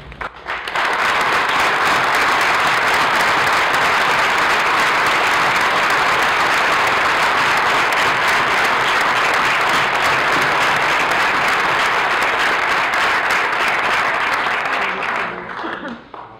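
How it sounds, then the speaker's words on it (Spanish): An audience in Spain applauds warmly for Yoani Sánchez at a public conversation event, loud sustained clapping that swells in quickly, holds dense and even for about fifteen seconds, then fades out. "Recibámosla con todo nuestro cariño, con toda nuestra admiración y con un muy fuerte aplauso."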